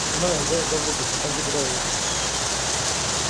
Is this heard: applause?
no